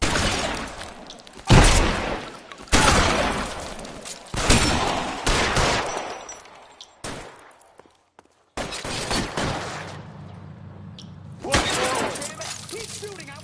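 Gunfire rips through a video game shootout in heavy bursts separated by brief pauses, with glass shattering and loud impacts, while voices shout over the shooting.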